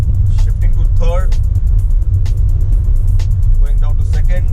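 Inside a Hyundai Venue with the i-MT gearbox, a steady low engine drone hums through a downshift from fourth to third, with someone talking over it throughout.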